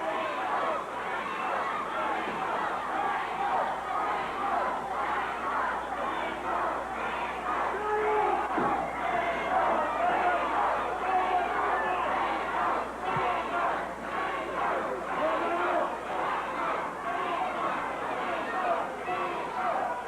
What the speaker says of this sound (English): Crowd once again trying to get solidly behind the team of Rainbow and Thunder. They're chanting the name of Rainbow.